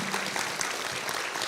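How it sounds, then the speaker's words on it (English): A town hall audience applauds election workers. Dense, continuous crowd clapping fills the short stretch at steady loudness, with no talk over it. "Can we get another round of applause for our election workers?"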